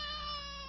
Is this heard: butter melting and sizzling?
no